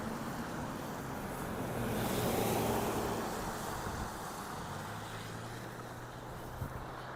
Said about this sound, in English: The cars zipping past me.